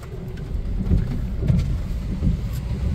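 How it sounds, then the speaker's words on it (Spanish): A heavy rainstorm pours down outdoors beside a river during a storm with coastal flooding. The steady downpour sounds dense and loud, with low rumbling underneath and no voices. "Aquí está lloviendo con todo."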